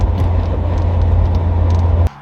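Toyota MR2 Spyder with a swapped 2ZZ engine on its first drive, a loud steady low engine rumble from inside the car that cuts off abruptly just before the end.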